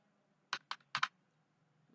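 Keys clatter in a few short, quiet bursts on a computer keyboard as a menu item is entered into an MS Excel 2016 database, about four taps and then one more, close and alone in a hushed room.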